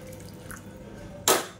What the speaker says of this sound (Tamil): இந்த ஸ்டேஜில் நல்லா கொதிக்கிற தண்ணியை சேர்த்துக்கோங்க